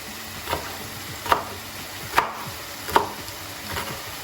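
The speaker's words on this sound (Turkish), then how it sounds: "Siz arzu ettiğiniz gibi damak zevkinize göre acı veya tatlı 3 adet sivri biber doğrayabilirsiniz." A knife chops green chili peppers on a cutting board in a home kitchen, four or five sharp, evenly spaced strikes over a quiet background hum.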